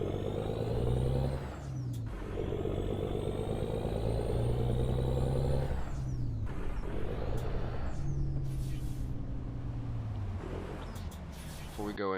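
Engine of a Peterbilt 379 truck mod in a driving video game, a deep steady diesel rumble with rising and falling rev tones and sharp air-brake hisses, someone speaking over it.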